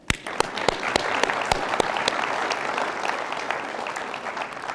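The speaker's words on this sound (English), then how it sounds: "We will give you a round of applause." An audience at a State of the City 2024 address gives a round of applause. Loud, dense clapping starts sharply and holds steady for several seconds.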